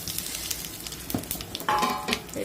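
Dried red chilies and curry leaves crackle and sizzle in hot oil, close but fairly soft. A sharper, brighter burst of spitting comes as more goes into the pan, with a light clink of a utensil, no talking.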